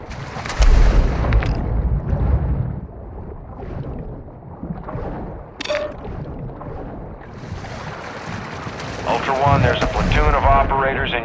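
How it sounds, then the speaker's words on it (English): Gunfire and explosive blasts from Call of Duty Warzone DMZ on the Al Marzah map, heavy booms early and mid-clip mixed with game radio voice chatter and a busy combat soundscape. "You are taking effective fire."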